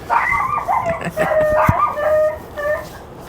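A dog howls and yips in rising, wavering cries with a couple of short barks, fairly close, in several bursts.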